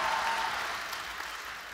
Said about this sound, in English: huge round of applause to Junction and all teams